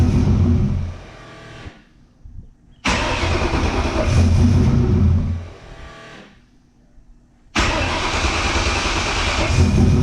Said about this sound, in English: we're gonna crank it over and see what happens